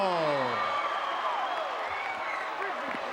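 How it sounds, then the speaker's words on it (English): A wrestling arena crowd applauds and murmurs for the wrestler Leaping Lanny Poffo, a broad, steady wash of noise under a voice. "Tremendous round of applause here"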